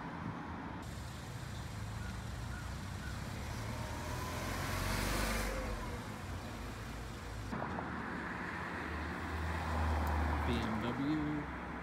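A BMW car passing on a road during street car spotting, its engine and tyre noise swelling gradually and fading, with steady traffic rumble and people talking over it.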